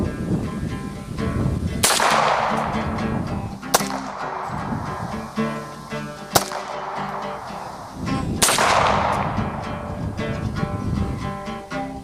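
A Beretta 92FS pistol fires four loud, sharp shots at an outdoor range, spaced a couple of seconds apart, each ringing out with echoing reverb over background noise; nobody speaks.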